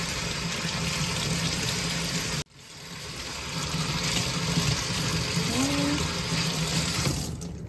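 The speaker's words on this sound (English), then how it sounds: "So I'll let that run for a minute. Okay, and then I'll switch it over to hot water." Water runs steadily from a faucet into a sink while hand-dyed fabric is rinsed, briefly cutting out as the tap is switched over to hot, then resuming as a continuous close splash.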